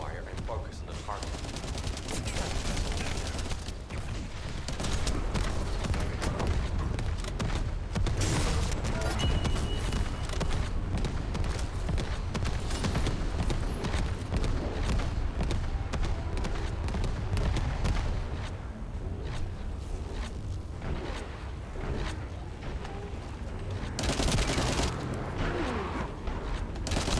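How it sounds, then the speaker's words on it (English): Enemy artillery fire in The First Descendant pounds relentlessly, dense rapid gunfire and booms filling the whole stretch at steady loudness, with game voice lines mixed in. "Avoid the enemy's artillery fire and focus on the target."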